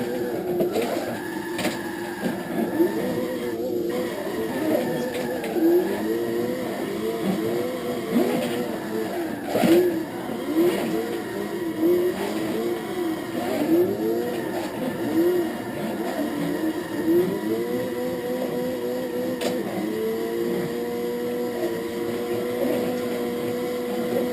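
A car drifting in the racing game Gran Turismo 6, driven with a G25 wheel: a loud engine drones and revs through rising and falling pitch sweeps, with tyre squeal layered over the steady whine for the whole stretch.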